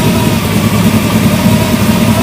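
An engine idles steadily at roughly 800-900 RPM, a continuous low rumble with even vibration, close and fairly loud with no talking over it.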